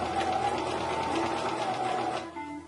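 Sewing machine stitching a point sewing sample runs in a steady, close mechanical whir for about two seconds, then stops.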